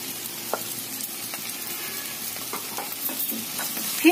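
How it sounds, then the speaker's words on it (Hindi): Sabudana with cumin powder and black pepper powder sizzles in a pan, a soft continuous frying crackle with a few light stirring clinks and scrapes, no voices. "अब हम इसमें डालेंगे जीरा पाउडर, काली मिर्च पाउडर और ये साबूदाना"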